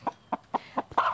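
A territorial rooster gives a quick series of close, evenly spaced clucks, four short notes ending in a louder drawn-out call.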